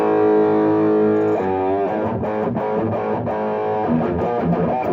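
Marshall JVM 210H amplifier on the red overdrive channel, with no EQ or reverb, playing heavily distorted electric guitar: sustained chords, then a run of choppy riffing, loud and continuous with no talk.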